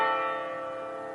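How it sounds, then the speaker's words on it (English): A single final bell at a college men's soccer match rings out loudly and then decays slowly, its steady tones carrying alone with no talk. "Well, that's the final bell"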